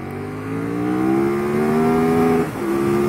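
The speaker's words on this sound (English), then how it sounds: "I will show you how quick the bike accelerates." KTM Super Duke GT motorcycle engine revving hard under acceleration, a loud rising growl that climbs steadily in pitch for over two seconds, briefly dips at a quick gear shift, then pulls on again.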